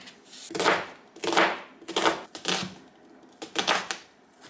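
A knife chopping through an onion for a vintage chuckwagon beef slow cooker recipe: about six crisp, separate cutting strokes in an uneven rhythm, close and clear with no talking.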